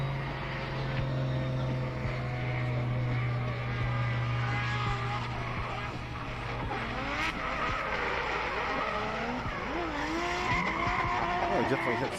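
Drift car at Manfeild raceway's first turn during a DriftWars competition run, engine revs climbing loud and sustained with tire squeal, under a commentator's continuous talk.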